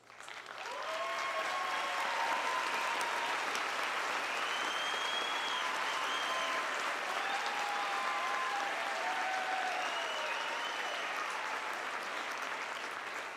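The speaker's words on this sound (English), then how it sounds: "Would all our study abroad students please stand for a round of applause?" Sustained audience applause fills a commencement ceremony hall as study abroad students stand among the graduates, a dense, steady wash of clapping with a few cheers or whistles rising above it, holding level for the whole stretch.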